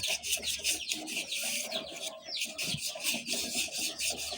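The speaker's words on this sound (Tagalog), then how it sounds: "Ang gagamitin nating pangliya dito yung pino." Fine sandpaper rubs a rusty electric fan shaft in quick, repeated rasping strokes, close and fairly even in rhythm.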